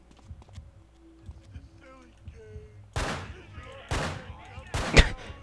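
Shotgun blasts in the Manhunt game, three loud, close shots spaced about a second apart after quieter footsteps and background clatter.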